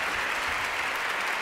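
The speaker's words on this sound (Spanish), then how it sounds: "Dale un aplauso" Steady applause from a concert audience at an educational music show, a dense, even clatter of many hands clapping at once that stays loud and unbroken from start to finish, with no voices over it.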